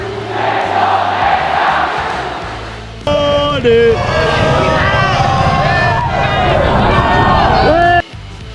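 Tens of thousands of Indonesia supporters fill Gelora Bung Karno stadium ahead of an AFF U23 final against Vietnam, a dense roaring crowd with rising chants and swelling cheers that stay loud throughout, with a brief drop near the end.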